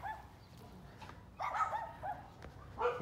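A husky dog whimpers and makes soft, faint yelps in short bursts, with a quiet pause between them and low voices in the background.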